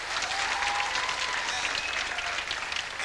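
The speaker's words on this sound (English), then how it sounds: "Give him a clap." A studio audience at a 1988 spook show claps steadily for a boy named Adam, a dense continuous patter of applause at moderate volume that holds for the whole stretch, with no talk over it.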